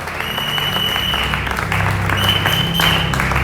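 Church congregation applauding during a Sunday worship service, a steady loud wash of clapping from a full room, with a sustained tone running beneath it.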